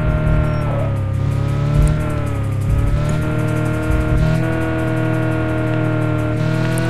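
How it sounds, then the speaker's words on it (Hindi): A car engine revs steadily in a driving simulator game, a loud, continuous motor drone with slight rises in pitch and no voices. "तो गाइज फाइनली अपनी गाड़ी को भगाते हुए जल्दी से चलते हैं।"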